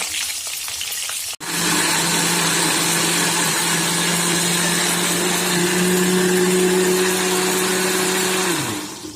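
Kitchen blender grinding chilies for sambal balado, starting with a click and then a steady, loud whirring drone that holds for several seconds before winding down at the end.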